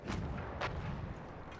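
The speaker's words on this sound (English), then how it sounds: "Now you can actually get in that anti-tank cannon right there and shoot it." Anti-tank cannon firing in the video game Battlefield 1: two loud booming shots about half a second apart, each with a crack and a rolling tail, followed by a fainter distant blast.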